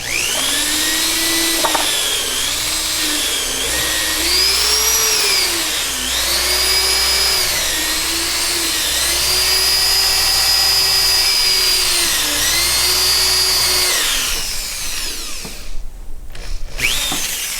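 A power drill whines steadily for about fourteen seconds, its pitch rising and dipping as it bites, then cuts out, leaving rustling and clatter.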